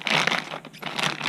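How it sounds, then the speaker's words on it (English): Plastic bag around an Elite Force Glock 17 airsoft pistol crinkling as it is opened, a close, busy rustle with a brief pause in the middle, no talk. "It comes in this plastic bag"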